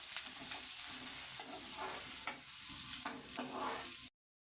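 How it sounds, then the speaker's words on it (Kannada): Curry leaves, chopped coriander and onion fry together in a pan for a chicken and field bean curry, a steady bright sizzle broken by several stirring scrapes, close and alone with no voices. "ಕರಿಬೇವು, ಕೊತ್ತಂಬರಿ ಸೊಪ್ಪು ಮತ್ತು ಈರುಳ್ಳಿ ಒಟ್ಟಿಗೆ ಹಾಕ್ಕೊಂಡಿದ್ದೀನಿ ನಾನು."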